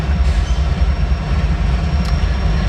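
A loud, steady rumble of a freight train rolling near Chicago, heavy low-end roar throughout with faint metallic squeal near the end.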